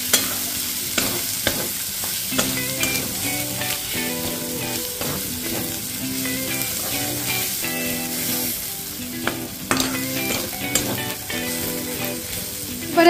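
Chicken liver and stomach stir-fry in hot oil, giving a steady close sizzle with a spatula repeatedly scraping and stirring the pan throughout.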